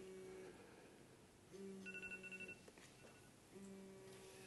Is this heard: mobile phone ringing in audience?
yes